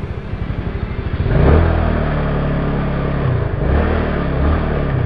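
A Yamaha Mio Sporty scooter engine, which has a dragging problem and weak pull, being revved during a test: a fast, pulsing idle close by that swells into a loud, steady rev and holds with small dips, with no talk.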